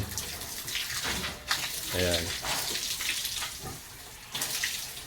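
Water from a large drum carried on a motorcycle sidecar runs down a long hose to a pig pen, a steady broadband rush under someone speaking.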